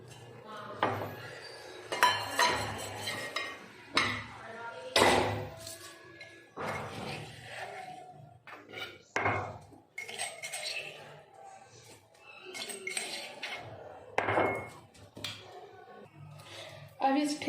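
Metal utensils clink and scrape against a dish while pounded chili-garlic thecha is transferred into a bowl, a series of short bright clatters and taps scattered between stretches of someone talking.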